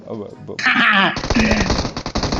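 Rapid automatic gunfire in PUBG Mobile, a dense burst of loud shots rattling on after a brief shout, with excited voices talking over it.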